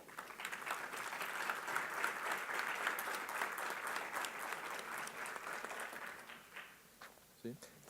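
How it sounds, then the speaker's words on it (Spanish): A conference audience at a transport institute event bursts into sustained, dense applause that holds steady for several seconds before thinning out and fading near the end. "para los cuales pido por favor un fuerte aplauso"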